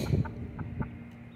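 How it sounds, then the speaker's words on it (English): Barred Rock hens give soft low clucks, a few short notes in a loose rhythm, close by and fairly quiet. "my 2 barred rocks are the only 2 chickens I have left from my first flock"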